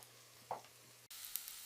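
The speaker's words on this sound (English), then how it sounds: "Toss in the chopped onion, garlic, and ginger. Let them sizzle for about 2 minutes" Chopped onion, garlic and ginger sizzle in hot oil in a pot while a vegan chickpea curry is cooked: a quiet, steady frying hiss with a brief break partway through.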